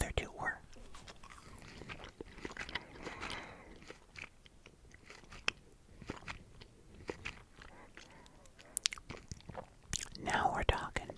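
Green apple flavoured gummy candy shaped like an apple being bitten and chewed close to the mic, soft sticky mastication with faint crunchy clicks and whispery breaths throughout.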